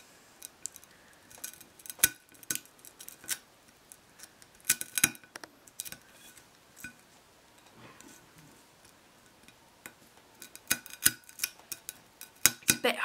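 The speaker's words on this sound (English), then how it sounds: "It's a bit hard to cut with the spoon." A spoon cuts into a candy-kit cake in a small plastic tray, giving scattered light scrapes, taps and clicks at irregular intervals with quiet pauses between them.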